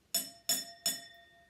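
Three evenly spaced bright clinks of a spoon tapping a small empty drinking glass, each leaving a clear sustained ring that fades before the next, heard close and alone.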